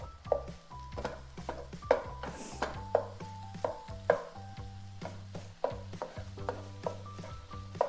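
Chicken, onions, mushrooms and garlic cook in a pan for lettuce wraps, with a soft sizzle under repeated scraping and stirring clinks of a utensil against the pan, close and fairly quiet, set against light background music.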